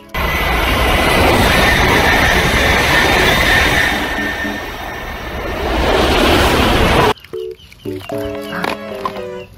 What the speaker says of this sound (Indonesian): Wah, ternyata ada kereta api.